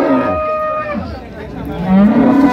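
A dairy cow with her calf at the Raniganj cattle market in Dinajpur gives loud, close moos, one drawn-out call early and another rising at the end, with a brief lull between.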